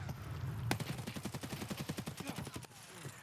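Rapid automatic gunfire in the video game Escape From Tarkov, a fast burst of about twenty evenly spaced shots lasting two seconds, fairly quiet, with a single sharp shot just before.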